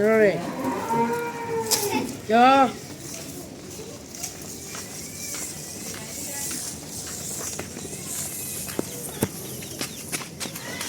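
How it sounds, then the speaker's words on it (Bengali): A large cow at a cattle sale lets out two loud, close moos in the first few seconds, followed by quieter farmyard bustle, shuffling and scattered knocks, with some faint voices in the background. "দেখেন গরু দেখেন কত বড় গরু দেখছেন"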